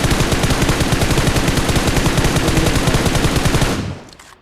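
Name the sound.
gunfire in a battle royale video game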